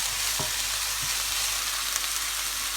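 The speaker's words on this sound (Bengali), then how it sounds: "এখন এটাকে একটু হালকা বাদামি কালার করে ভেজে নিব" Onions frying in oil until light brown, a steady close hiss of sizzling with no pauses, plus a few faint stirring clicks near the start.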